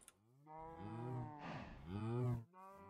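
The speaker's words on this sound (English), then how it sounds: "There are so many" Cows moo in the Minecraft video game, two long, loud, close calls in a row that fill nearly the whole stretch with a brief noisy burst between them.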